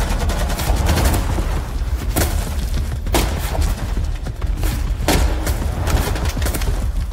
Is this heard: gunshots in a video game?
yes